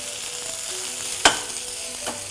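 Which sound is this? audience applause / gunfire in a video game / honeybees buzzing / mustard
mustard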